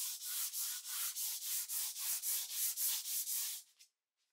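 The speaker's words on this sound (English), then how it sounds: "I used a 320 sandpaper along with a block and I just sanded it until it was super" Close, steady back-and-forth rubbing of 320-grit sandpaper on a block over a painted surface, about fourteen even, raspy strokes in a regular rhythm, then stopping abruptly.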